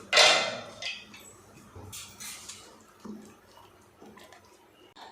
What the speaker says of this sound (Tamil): அரிசி சேர்த்துட்டு நல்லா கலந்து விட்டுறலாம்.